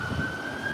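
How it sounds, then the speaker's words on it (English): A steady emergency siren wails in the distance during Cyclone Alfred, a sustained tone over a rumble of wind and rain, heard from outdoors with no talking. "Oh, there's a siren."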